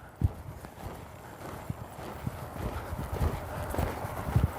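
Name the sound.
horse hooves while ridden through lead changes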